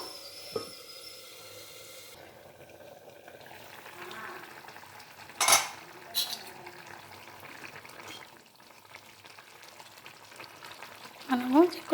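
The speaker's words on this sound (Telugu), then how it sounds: "ఇప్పుడైతే మనం కొంచెం సేపు ఇలా ఉడకనిద్దాము" Vegetables simmer in a home kitchen pan with tamarind leaf powder to come, giving a low steady bubbling hiss with a few sharp clinks of a utensil against the pan, the sound fairly faint throughout.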